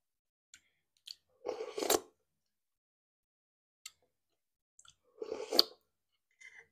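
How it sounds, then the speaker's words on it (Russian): Mukbang eating of stuffed cabbage rolls with mashed potatoes: close, wet chewing and smacking in two short bursts separated by quiet pauses, with a few faint clicks, and no talking. "Кто-то пишет там, не чавкайте, вы чавкаете."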